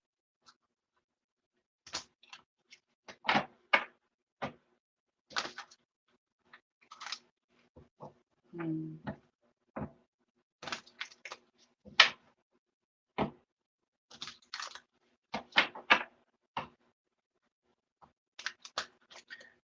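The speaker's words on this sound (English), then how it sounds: "Cards seem a little difficult to shuffle." A deck of tarot cards being shuffled by hand, heard as quiet, close bursts of riffling and snapping in irregular clusters separated by silence.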